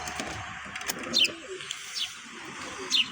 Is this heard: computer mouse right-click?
no